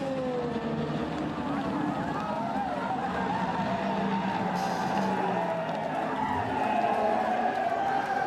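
A Ferrari race car crosses the finish line at Le Mans, its engine whine and rising tone audible amid dense track noise and a crowd, with commentary talking over it.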